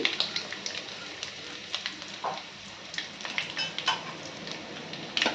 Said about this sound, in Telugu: ఇవి కొంచెం ఫ్రై అవ్వాలి బాగా